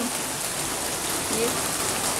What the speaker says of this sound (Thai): มาแบบ ฝนตกนิดนึง